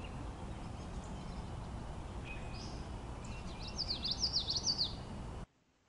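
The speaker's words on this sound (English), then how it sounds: "that sort of very thin, bitchy bitchy kind of sound is a common yellowthroat" Thin, high, repeated song phrases from a common yellowthroat on a woodland trail in April, faint and distant over a constant low outdoor rumble, growing more distinct near the end.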